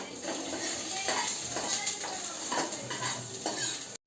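Spices, including a pinch of asafoetida, sizzle steadily in hot oil for a farm beans gravy, with repeated scraping and clinking of a spoon stirring the pan, a close and continuous frying hiss throughout.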